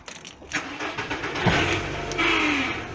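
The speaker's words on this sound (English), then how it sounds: "start the engine up and see if we can find where this rattle's coming from" A Bug car engine with a rattling fault cranks and catches about halfway through, then runs on close up with a rough, uneven drone and a revving swell near the end.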